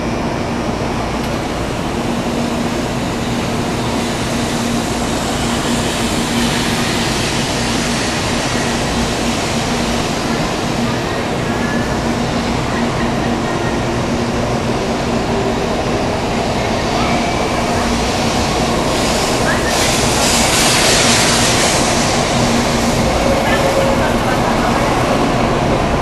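Inside a Japanese bullet train on the move, a loud, steady rush and rumble of the ride fills the whole stretch without a break, swelling slightly near the end.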